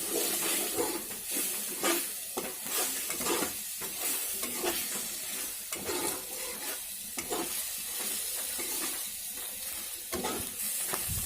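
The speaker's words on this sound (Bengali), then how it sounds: "মশলাটাকে একটু কষে নিতে হবে।" Masala with turmeric powder sizzling and being stir-fried in a pan, a continuous close hiss with repeated scraping strokes of the spoon throughout.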